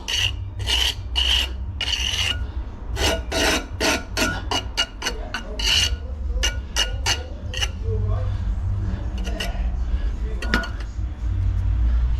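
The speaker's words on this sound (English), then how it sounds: "That way down with the trowel." Steel trowel scraping and rasping against mortar while herringbone brickwork is laid, a run of close, sharp strokes and taps repeating in quick bursts over steady background noise.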